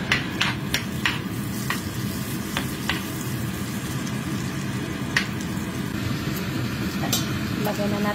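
Butter stirred with a spoon in a hot pan, a steady close sizzle with scattered scraping clicks of the spoon against the pan, with talk over it.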